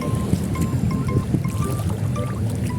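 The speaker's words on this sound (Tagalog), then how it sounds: "Lakas ng alon." Strong sea waves at a beach churn and splash continuously, with gurgling and sloshing as they break close by, loud and unbroken throughout.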